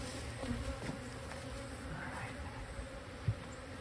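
Honeybees buzz in a steady low drone at the entrance of a young hive just after a split is shaken in, with a few soft knocks and handling sounds but no talking.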